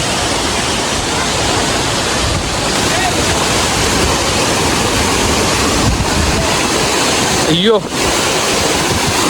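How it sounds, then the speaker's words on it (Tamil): The Aagaya Gangai waterfall in the Kolli Hills roars as a loud, steady rush of falling water and blowing spray. A voice briefly calls out over it near the end. "ஆகாயகங்கை வாட்டர் ஃபால் பா சரியாக இருக்குது. இங்கே வரைக்கும் சாரல் அடிக்குது."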